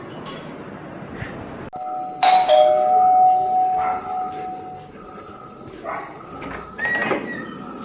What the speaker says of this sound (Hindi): इन्होंने इतनी तेज से घंटियाँ बजाई है।